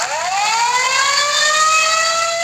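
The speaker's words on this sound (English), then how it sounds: "yes, that's the sirens going off, but we gotta get to shelter" A tornado warning siren wails loud and steady, its rising tone holding without a break for the whole stretch, with no voices heard.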